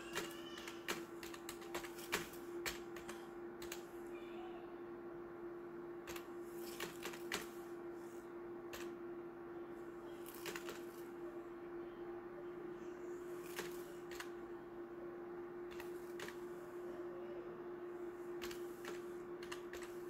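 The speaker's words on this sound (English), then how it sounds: "Type here your password" Computer keyboard keys tapped while entering a password in a Kali Linux terminal: sparse, faint clicks scattered over a steady electrical hum, with no talking.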